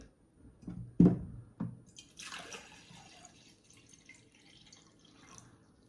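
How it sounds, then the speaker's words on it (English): Water splashes and trickles into a plant pot holding LECA clay pebbles after a few dull knocks, pouring unevenly for several seconds at close range. "So I'm going to add water."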